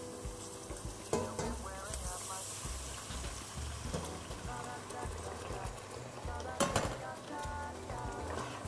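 Tomato pulp and mussel broth being stirred in a pan, with a continuous wet sizzle and scraping utensil strokes, a couple of sharper clinks against the pan, steady and close throughout.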